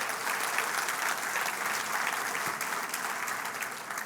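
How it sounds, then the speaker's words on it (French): A church congregation applauds, welcoming visiting members from Abitibi: a steady wash of many hands clapping at an even level from start to finish, with no voices standing out. "Une bonne main d'applaudissements pour Abitibi."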